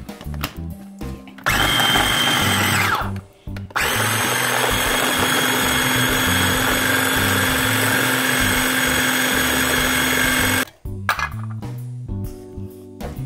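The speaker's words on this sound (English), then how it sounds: "let your food processor go to work" A small food processor whirs steadily while making a wonton soup filling, with short pulses at the start and end around a long continuous run at even loudness. No one speaks.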